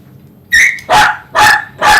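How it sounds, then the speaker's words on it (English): A dog barks during a grooming session, giving four loud, close barks in quick succession, the first with a whiny, yelping pitch. "You can't be rude and bark the whole time for her groom."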